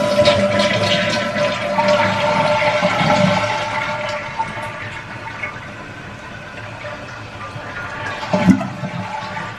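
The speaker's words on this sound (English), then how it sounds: "We're going to flush and see if everything works." A toilet flushes with a loud rush of water after a handle repair, then the tank refills with a steadier running trickle and a brief gurgle near the end.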